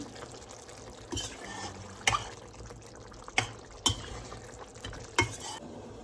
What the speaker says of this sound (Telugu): చికెన్ మసాలా వేసి బాగా కలుపుతున్నాము